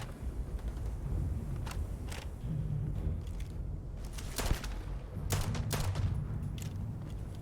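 Gunfire in the space game Starfield, a scattered run of sharp distant shots and short bursts over a steady low ambient rumble, fairly faint and uneven in rhythm.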